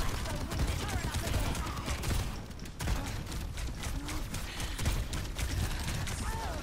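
An automated turret fires in the video game Overwatch 2, a dense, relentless stream of rapid shots and mechanical clatter. It stays loud throughout, with a brief dip partway through, and a voice comes through over the barrage.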